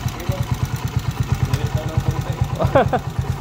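A motorcycle engine with a 200cc conversion putters at a steady, rapid idle rhythm up close, with a brief clattering flutter near the end.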